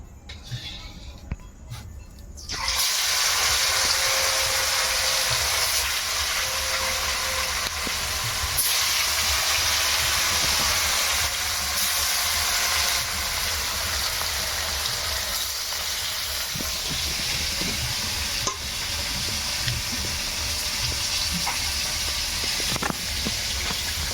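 Fish fries in oil in a pan during village-style Bengali fish curry cooking, a loud, continuous sizzling hiss bursting in after a quiet start and holding steady with small crackles.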